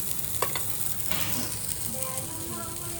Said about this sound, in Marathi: fish fry